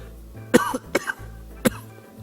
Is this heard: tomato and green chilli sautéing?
no